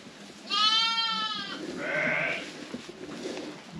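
A crossbred ewe and her large newborn lamb bleat twice at close range in winter, a long wavering cry followed by a shorter, higher one over faint background noise.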